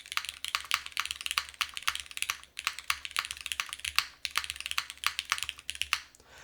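Steady, rapid typing on a Manta keyboard with Cherry switches in an aluminum case, crisp clacky keystrokes in quick bursts with brief pauses, close and clear with no talking.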